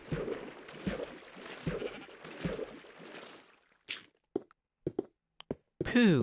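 A sheep in the Minecraft video game bleats several times in a quick rhythmic series, followed by scattered short clicks and thuds and a rising warble at the end.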